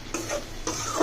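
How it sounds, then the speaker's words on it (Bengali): Spice paste (masala) sautéing in a pan for an egg, okra and tomato bhorta meal, with a few bursts of stirring scrapes over a steady close sizzle. "এখানে হচ্ছে আমার মশলাটি কষানো হয়ে গেছে।"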